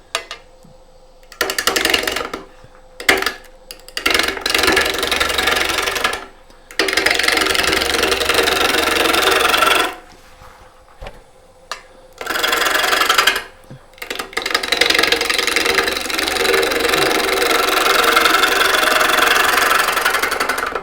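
A wood lathe spins a mulberry bowl blank, a loud, steady whir with a knocking pulse that starts and stops several times, falling silent between runs.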